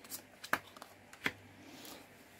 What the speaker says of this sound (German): Mischen wir nochmal.